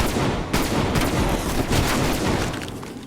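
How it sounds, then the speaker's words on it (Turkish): Gunfire in Call of Duty Black Ops Cold War zombies mode, a loud, dense volley of close shots and booming impacts that barely lets up across the moment. "O zaman ben bunu vuruyorum. Vur vur."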